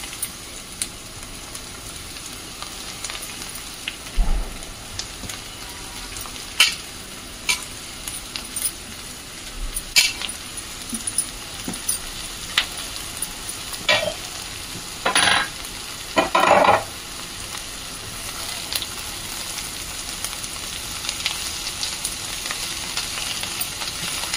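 Red amaranth stir-fried in a pan, with a continuous low sizzle and intermittent scraping and clinks of a spatula stirring the greens, with no talking.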